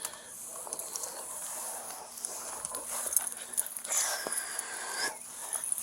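A blind and deaf dog whimpers and wheezes in distress, thin high whines and breathy pants close by, rising and falling irregularly through the whole stretch.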